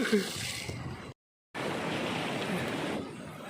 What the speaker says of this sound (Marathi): हे बघा पाण्याची लाट